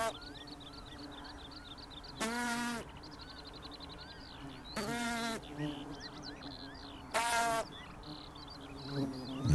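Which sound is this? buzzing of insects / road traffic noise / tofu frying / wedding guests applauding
buzzing of insects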